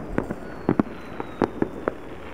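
July 4th fireworks in Lompoc, California crackle and pop in a quick irregular series of about eight sharp bursts, some doubled, moderately close, with a faint whistle trailing across.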